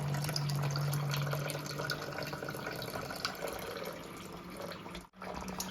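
Water running from a reverse osmosis filter into a container, a steady close trickle and splash with a faint hum behind it and a brief dropout near the end.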